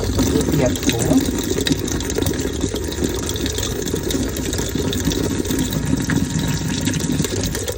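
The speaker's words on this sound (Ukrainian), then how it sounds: "Залити 250 мл кипятку." Boiling water, about 250 ml, is poured steadily onto drain-cleaning granules in a household drain, giving a continuous loud splashing gush that runs unbroken from start to finish.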